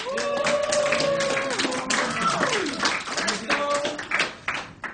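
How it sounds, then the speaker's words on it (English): A Year 13 calculus class gives a spontaneous round of applause, a close scattered patter of hands that thins toward the end, with a voice speaking over the start. "a nice spontaneous round of applause there"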